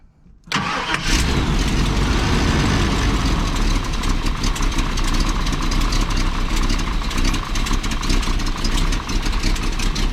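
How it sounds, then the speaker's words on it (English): A 454 big block Chevrolet engine in a Class A motorhome cranks and fires up, then settles into a loud, steady, rumbling idle with an unmuffled mechanical clatter up close, engine cover off. "it's going to be noisy because the engine cover's not on it"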